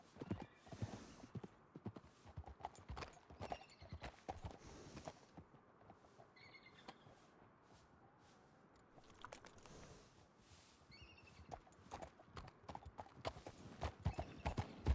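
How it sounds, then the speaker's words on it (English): Horse hooves clip-clopping in the western video game RedM, quiet irregular hoof beats at a distance with occasional faint whinnies and a lull midway. "I hear horses."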